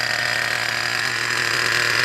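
A small nitro engine on a Traxxas Revo 3.3 RC car idles at a steady buzzing drone, loud and close, holding an even rhythm for the whole stretch without talk.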